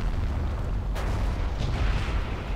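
A Panther tank exploding in the World War II game Forgotten Hope 2, a heavy, rumbling blast with a sharp crack partway through, followed by a lingering low roar of battle.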